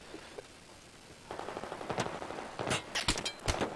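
Gunfire in the video game Battlefield 3: a quiet stretch, then scattered shots that build into several loud, sharp bursts near the end.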